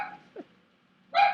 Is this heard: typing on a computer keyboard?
no